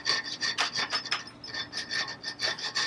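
Hand file rasping a square hole in metal clamped in a bench vise, a close, rhythmic series of back-and-forth strokes at an even pace.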